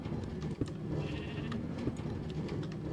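Sheep bleating in Minecraft, a few bleats rising over a steady low background hum on a wool farm, fairly quiet with no talking.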